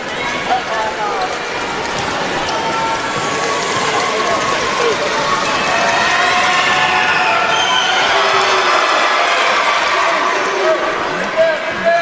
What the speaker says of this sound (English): we do hear then that there's quite a few Warriors fans in the crowd